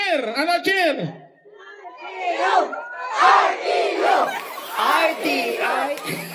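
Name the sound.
crowd of RTU students cheering loudly at parade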